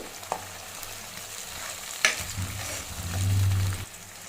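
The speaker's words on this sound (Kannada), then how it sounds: "ಆ್ಯಡ್ ಮಾಡಿದಾದ್ಮೇಲೆ ಒಂದು ಸತಿ ಚೆನ್ನಾಗಿ ಮಿಕ್ಸ್ ಮಾಡ್ಕೊಳ್ಳಿ" Onion and chili paste frying in a pan for hotel-style channa masala is stirred with a spatula, giving a soft steady sizzle broken by a couple of sharp scrapes and a thicker rasping stir near the end.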